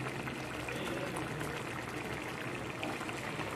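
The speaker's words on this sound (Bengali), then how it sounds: "এখন এর মধ্যে আমি মাছগুলো দিয়ে দেব, দিয়ে 2 মিনিট ফুটিয়ে নেব।" A sea mourola fish curry boils in a pan, a dense, even bubbling hiss that runs quietly and unbroken throughout.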